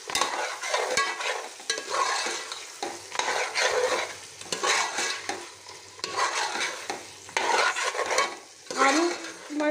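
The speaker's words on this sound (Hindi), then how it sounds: "सबको डाल के अच्छी तरह मिक्स करेंगे।" A spoon stirs potatoes, peas and whole green chillies in a hot pot for aloo matar pulao, with scraping and clinking strokes over a light sizzle, close and rhythmic, no voices.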